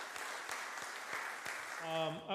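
Audience applause for Dennis at the close of an emergency response planning presentation, a dense steady wash of clapping throughout, with a brief tonal sound rising near the end.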